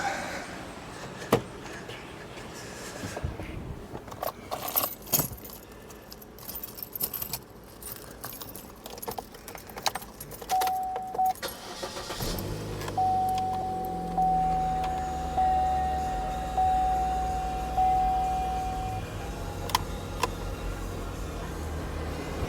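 A 2012 Chevrolet Cruze during a coolant flush: keys jangle and rattle, then about halfway through the engine starts and settles into a steady idle while a repeating chime sounds above it.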